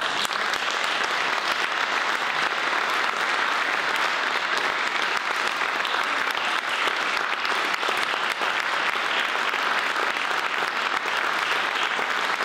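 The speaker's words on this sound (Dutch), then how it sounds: "Graag een warm applaus voor Tuur Segers" Concert audience gives a warm, sustained round of applause for classical guitarist Tuur Segers, dense steady clapping filling the hall throughout with no talk.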